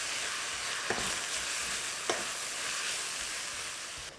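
Kimchi and pork stir-fry with soy sauce and sugar sizzles steadily in a pan while being stirred, with two soft clinks of a utensil against the pan over a constant frying hiss.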